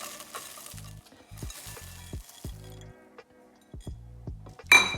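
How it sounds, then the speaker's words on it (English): Biscuits tipped into a bowl of melted chocolate and butter, giving close, irregular clinks, scrapes and soft thuds in short bursts with quiet gaps, and no talking. "So I'm going to start by adding in the biscuits."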